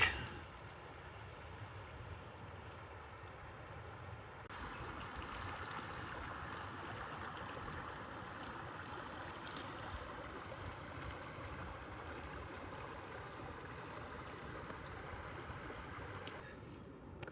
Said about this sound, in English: Be able to hear the creek.